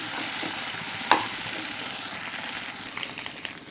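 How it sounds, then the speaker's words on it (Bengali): Eggs frying and being stirred in a pan for egg vegetable noodles, giving a steady close sizzle with one sharp scrape or clink early on and soft stirring scuffs after it. "দেখুন, ডিমগুলো ভাজা হয়ে আসছে"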